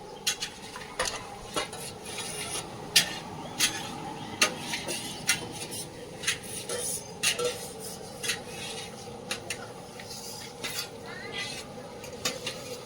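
Pots, pans and utensils clatter sporadically through a busy outdoor cooking session, a steady stream of light clinks, scrapes and stirring knocks spread over a low background hum, with faint voices now and then.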